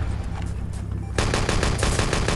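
An artillery strike falls in a Wolfenstein: Enemy Territory match on the Goldrush map, a dense, continuous roar of blasts and gunfire that swells louder halfway through.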